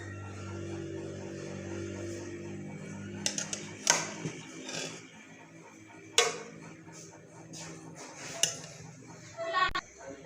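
Chicken pulao being dished out into a serving dish: a spoon scrapes and clinks against the pot and plate in scattered sharp knocks over a steady low hum, with a few louder clanks close by.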